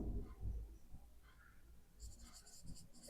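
A math teacher writes numbers for a class 10 real numbers lesson, heard as faint, close scratching strokes of handwriting at low level, with quiet breathy mouth sounds in between.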